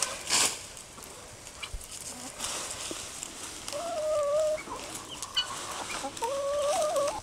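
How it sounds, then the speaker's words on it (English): Several chickens eating sweet potato leaves cluck softly and intermittently nearby, with a few drawn-out murmuring calls over a quiet outdoor background. "those chickens are very happy eating the sweet potato leaves"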